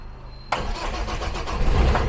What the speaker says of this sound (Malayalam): ജസ്റ്റ് ആ ഒരു ഒറ്റ അടിക്ക് തന്നെ നമ്മുടെ വണ്ടി സ്റ്റാർട്ടാവുന്നുണ്ട്.